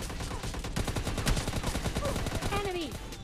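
AWM sniper rifle fire in a battle royale video game comes through as dense, sharp gunshot cracks mixed with other game effects, loud throughout a short stretch.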